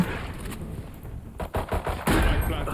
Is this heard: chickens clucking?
no